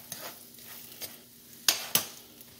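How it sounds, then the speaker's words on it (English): Quiet sizzling of bread in a frying pan, broken by a few sharp clinks of a utensil against the pan. "I can hear that sizzle quite aggressively."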